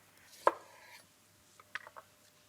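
A knife slices through a whole lemon on a board: one sharp cut followed by a short trailing scrape, then a few soft, quick knocks of the halves being moved, all close and fairly quiet.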